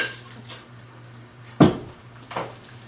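Food mixture of zucchini and cream cheese thuds and scrapes into a pre-greased 8-inch pan, with one sharp clatter at the middle and a smaller knock shortly after, over a low steady kitchen hum.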